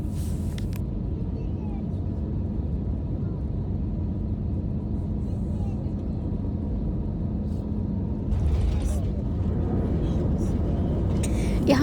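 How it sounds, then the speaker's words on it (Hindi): An Airblue passenger jet lands, heard from inside the cabin as a constant deep engine and airflow rumble that grows slightly louder and rougher partway through, with a few brief clatters near the end. "तो यहाँ पे बस जहाज़ नीचे अपने टायर लगाने ही वाला है"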